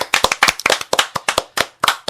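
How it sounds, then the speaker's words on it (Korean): A small audience claps at a local political broadcast, a sparse run of sharp, individual hand claps close by, uneven in rhythm and unaccompanied by speech. "박수 한번 주시죠."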